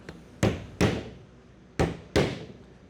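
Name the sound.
tapping a door handle with snipped-off screws to mark wood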